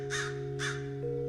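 Two loud, harsh caws from a scolding crow ring out in quick succession, close by, over a steady background hum.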